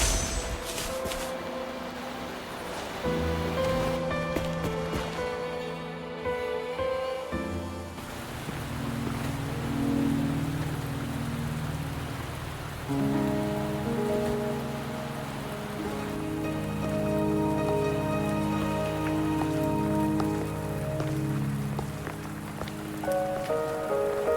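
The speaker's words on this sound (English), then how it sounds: "Are you trapped here by the rain?" Steady rain patters over a location in the video game Wuthering Waves, a continuous wash under layered game music with no speech.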